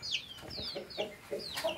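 Brahma Dark hens cluck in short, rising calls close by, a series of about six clucks with brief gaps, alone without talk.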